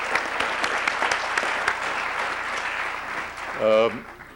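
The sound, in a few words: audience applause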